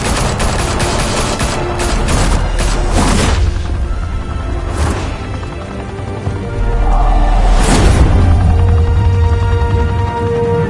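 Heavy gunfire in Batman: The Telltale Series, rapid bursts of automatic shots and loud impacts crashing together, with a few booming hits and whooshes across a sustained, close, dense barrage.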